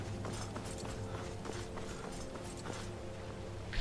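Horse hooves clip-clop in Skyrim, a quick steady patter of footfalls over a constant low game ambience, moderately close, with no talk.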